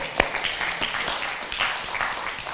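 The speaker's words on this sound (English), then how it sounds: "Give Jesus a hand clap." A church congregation at a Saturday service claps, a scattered burst of hand claps over a busy, reverberant room.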